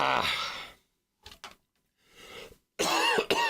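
Coughing from a person during a live game session, a few separate harsh bursts with pauses of silence between them, close to the microphone and alone.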